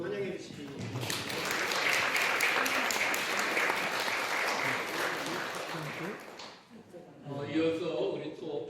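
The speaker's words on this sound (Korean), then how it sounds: "박수로 환영해 주시기 바랍니다." A church congregation claps in welcome for a visiting young man, a dense, sustained round of applause lasting several seconds before fading as a voice resumes speaking.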